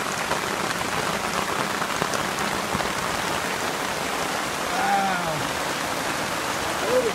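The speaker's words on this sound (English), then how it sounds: "and it's raining." Early-morning rain comes down hard outdoors at a campsite, a dense steady patter on surfaces all around, with a couple of faint distant bird calls briefly audible through it.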